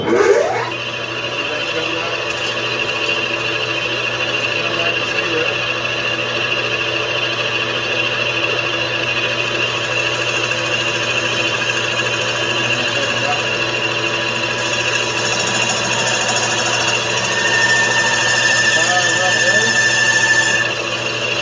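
Machining out the squish band in a Husqvarna 372XP chainsaw cylinder, a steady high whining tool tone with a constant mechanical hum that runs throughout, with a brief rising squeal near the end.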